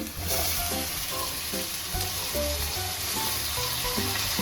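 Chopped tomatoes sizzling in a hot frying pan while cooking paneer butter masala at home, a loud, continuous close-up fry with a soft hiss and stirring underneath.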